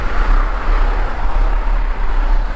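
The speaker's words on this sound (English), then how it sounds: "wondering how the microphone muff Dead Cat is handling the sound of traffic" Steady road traffic on US 59 and its frontage road, heard from a bike; a continuous low rumble and broadband wash of passing vehicles, fairly loud and unbroken, with no speech.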